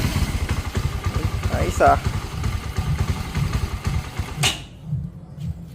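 A Motorstar Star X 175 motorcycle fitted with a new air filter and platinum spark plug is kick-started. The engine chugs loudly and close with an uneven pulsing beat, then cuts out abruptly while someone talks over it.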